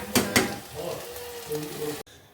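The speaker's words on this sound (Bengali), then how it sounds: "তো চালটা আমি দিয়ে দিলাম এবার ভালো করে একটুখানি কষিয়ে নিই" Rice sautés in a pan with a steady, soft sizzle. Two sharp scrapes of stirring come early, then the frying continues until it cuts off abruptly.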